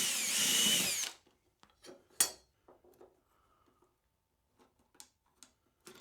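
A power drill bores into plywood in one short, loud whirring burst of about a second, then stops, followed by scattered quiet clicks and small handling knocks.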